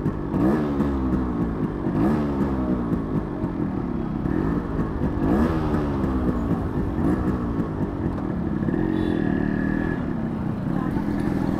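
A Yamaha RX two-stroke motorcycle, freshly water-washed, idles after a kick start with a loud, close, rapid ringing putter that rises and falls in short revs throughout.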